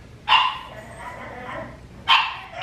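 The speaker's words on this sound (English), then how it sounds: "My dog is crying because she wants to go out in the backyard" A pet dog whines to be let out into the backyard, giving two sharp, high yelping cries about two seconds apart with softer whimpering between them, close by.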